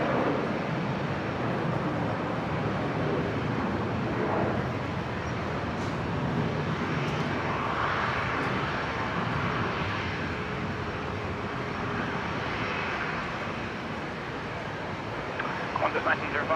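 A China Eastern Airbus A330-200 holds on runway 19 at Brisbane Airport, giving off a steady, distant engine roar that stays even throughout, with voices talking over it.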